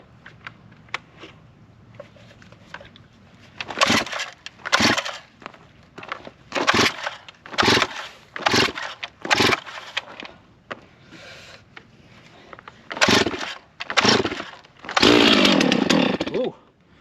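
Old 90cc 660 chainsaw being pull-started: repeated loud bursts from the starter cord and engine turning over, spaced about a second apart, with a brief sputtering catch near the end.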